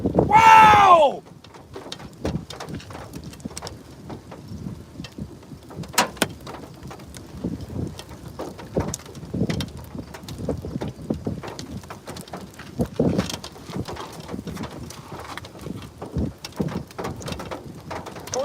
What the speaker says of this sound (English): I'm getting pelted with hail.